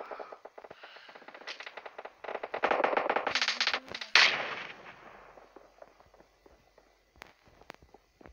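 Gunfire in the mobile battle game PUBG Mobile: sparse distant shots give way to rapid automatic bursts that peak sharply midway, then fade to scattered faint pops and footsteps.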